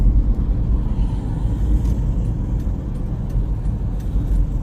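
Steady road traffic on a central Jakarta street seen from a flyover, a continuous low rumble of cars and buses passing, fairly loud and unbroken.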